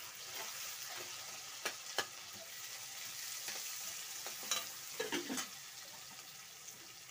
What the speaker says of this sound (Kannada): ಕಟ್ ಮಾಡ್ಕೊಂಡಿರೋಂಥ ಈರುಳ್ಳಿ ಸ್ವಲ್ಪ ಫ್ರೈ ಆಗಲಿ.